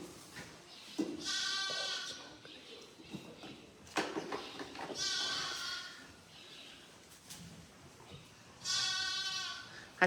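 A lamb bleats three times from beside its mother on a farm at lambing time, drawn-out wavering cries at moderate distance, separated by quiet outdoor ambience and soft rustling.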